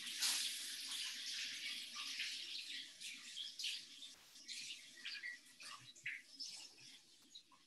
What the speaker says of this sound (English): I'm just gonna quickly wash my hands